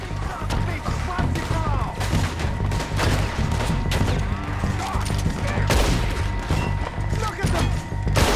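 Gunfire in Red Dead Redemption 2, a rapid fusillade of shots cracking over game noise and music, loud and continuous, with a player talking throughout.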